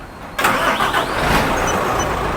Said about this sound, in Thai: ฟังเสียงเครื่อง ซะหน่อยมา สำคัญเลยฟังเสียงเครื่องนะ